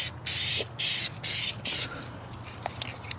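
Four short bursts of an aerosol spray can hiss in quick succession close by, spray-painting a black part of a CNC angle kit, followed by quiet with a few faint clicks.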